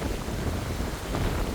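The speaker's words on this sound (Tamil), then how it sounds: "அடிக்கும் பாருங்க காத்து" Strong wind gusting around a car parked at the roadside at night, a steady, loud roar of buffeting air and microphone rumble with no clear voices.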